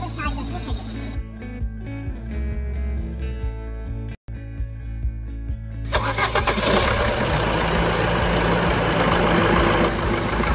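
A Maruti Suzuki Ciaz car engine starts up with a loud crank and catch, then settles into a steady running drone, recorded up close.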